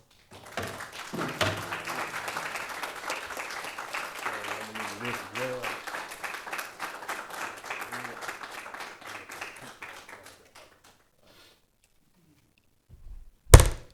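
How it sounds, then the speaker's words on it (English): Audience applause fills a city council chamber during a medal presentation, a steady patter of many hands lasting about ten seconds with voices underneath, then silence before a single sharp thunk. "give them a round of applause as I put this medal"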